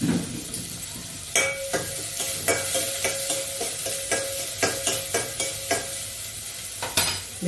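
Onion sizzles as it fries in a pan, with repeated sharp clinks and scrapes of a spoon stirring against the metal over a continuous crackle; no one speaks.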